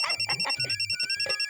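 A phone ringtone plays a repeating electronic pattern of short pulses, fairly close and steady, with a brief voice near the end.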